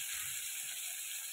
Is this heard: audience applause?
no